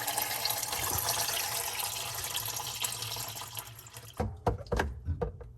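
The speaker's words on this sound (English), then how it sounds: "make sure the water empties out" Water pours steadily from a kitchen faucet supply line during installation, then sputters and gurgles in irregular bursts as the flow runs out and drains, close by.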